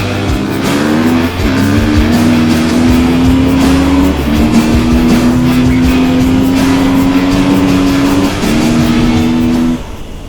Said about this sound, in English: put this Eride Pro SS emoto bike head to head with this Beta 350 gas bike in a top speed test